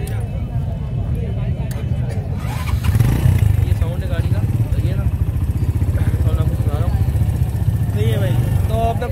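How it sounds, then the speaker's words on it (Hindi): A motorcycle at an open-air Sunday used-bike market in Karachi is started and settles into a steady, loud idle close by, with voices talking over the engine. "साउंड सुना दीजिएगा स्टार्ट करके जरा बाइक का।"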